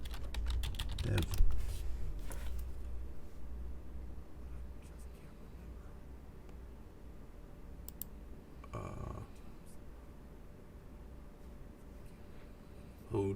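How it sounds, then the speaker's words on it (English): Soft, continuous keyboard typing in light, rapid clicks under a quiet background hum, with a few louder taps and rustles scattered through and faint murmuring voices at moments. "Forgive my typing."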